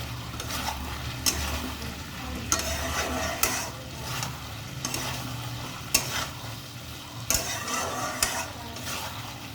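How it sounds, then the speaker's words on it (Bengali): Vegetable curry with cooked spices stirred in a pan, regular scraping strokes every second or so over a steady background sizzle, near and alone without speech. "তরকারিটা আর একটু নেড়ে নেব সবজিগুলো"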